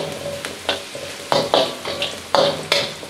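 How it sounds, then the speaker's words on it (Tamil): Chicken fried rice ingredients frying in a pan over medium-high heat are stirred in quick rhythmic scrapes, each stroke bursting over a steady near sizzle. "அதெல்லாம் மிக்ஸ் பண்ணி விட்டுக்கோங்க."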